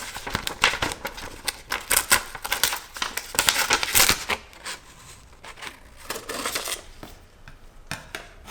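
Scissors cut through a sheet of paper up close in a quiet room: a steady run of crisp, crinkly snips and rustles with no talking.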